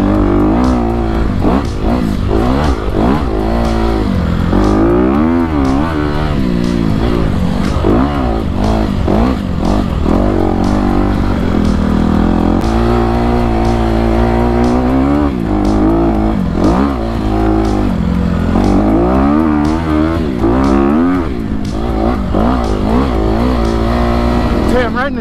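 Honda CRF 250 RX dirt bike engine on a Southern California singletrack trail, a loud continuous motor with rising and falling revs as the rider works through the trail, with talking over it throughout.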